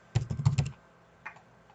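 A short burst of quick keystrokes on a computer keyboard, clustered clicks followed by a pause and a couple of lighter taps, close and alone.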